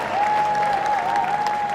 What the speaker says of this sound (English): Give a round of applause to Matthew and Theo